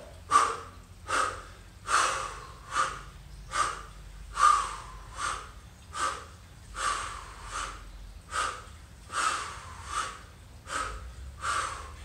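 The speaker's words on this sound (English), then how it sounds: "I'm also a little cognizant of my breathing pattern" Steady, rhythmic exercise breathing while swinging Indian clubs in a mill drill, about one sharp exhale per second, repeating evenly through the whole stretch, close and clear.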